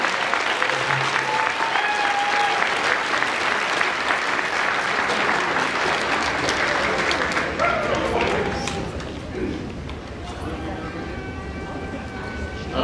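Sustained applause from a large crowd fills the room, steady and dense, tapering slightly toward the end with some faint tonal sounds and voices mixed in.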